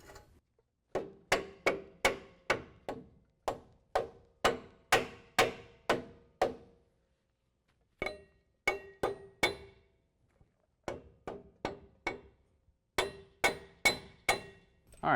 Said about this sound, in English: you might have to have a mallet